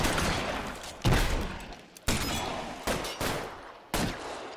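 Video game gunfire from L.A. Noire: several sharp shots strike at irregular intervals over a steady backdrop of game noise, each burst loud and close.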